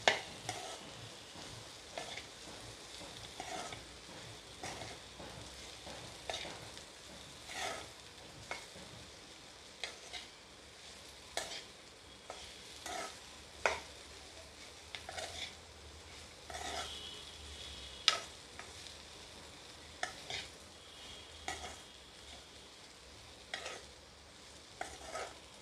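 Okra being stirred with masala in a pan, a steady scraping of the spatula every second or so over a low, continuous sizzle, close and fairly quiet, with no talking.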